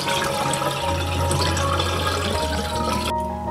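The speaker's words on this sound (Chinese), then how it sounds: "捞到冷水里， 冲洗一下，" Cold tap water pouring and splashing over boiled chicken wings in a bowl, a steady rushing gush close by that cuts off abruptly near the end.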